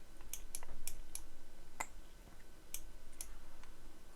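Sharp, sparse clicks at an irregular pace, fairly close and clean, with quiet room tone between them and no voices.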